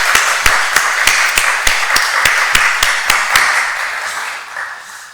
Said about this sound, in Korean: 하나님께 다시 한번 우리 영광의 박수 올려드리겠습니다